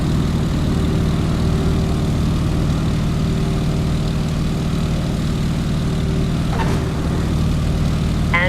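A propeller airplane taking off in the Microsoft Flight game, with a loud, steady droning engine and a low, constant propeller hum that runs unbroken throughout.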